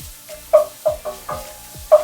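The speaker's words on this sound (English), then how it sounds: "We'll give that a quick fry in the pan." Ground chili powder, turmeric, coriander and cumin frying briefly in a pan, heard as a steady series of spatula scrapes and stirs, about one every third of a second, over a soft background sizzle.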